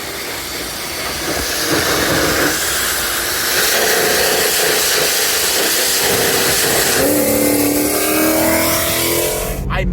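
A supercharged Mustang with a 1000 hp ESS Gen 3R kit on a stock motor, driving with a loud, continuous engine roar and blower whine, building in intensity and heard from inside the car.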